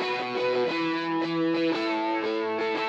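A musical part runs through chorus and doubler plugin effects in Studio One, giving a sustained, shimmering melodic line with layered, thickened notes that change in steady steps, played alone without talk.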